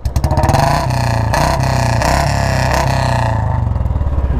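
Motorcycle fitted with an aftermarket exhaust, revved hard and close, a loud throaty engine roar that holds steady for several seconds with pulsing rises in throttle, no talking over it.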